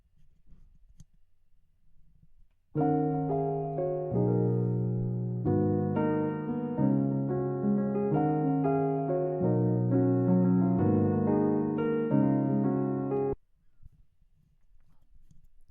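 After a quiet stretch, a music sample chopped in FL Studio plays back for about ten seconds, choppy segments of tuned sound starting and stopping abruptly, then silence returns.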